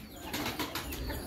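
A pigeon flaps its wings on a pigeon farm in Hyderabad, a brief burst of several quick, soft wingbeats close by against steady background noise.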